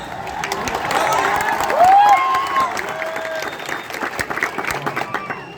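A university audience at a comedy show claps and cheers, with children's voices rising over the applause before it fades into scattered clapping.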